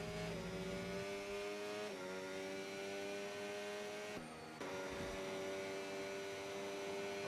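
A Ferrari race car engine in a racing game at Silverstone, held at a steady high whine with quick gear shifts and a brief lift near the corner before pulling away again.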